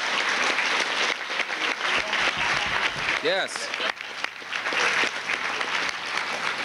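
Audience applauding at a 1995 awards ceremony, a steady wash of clapping throughout with someone talking over it.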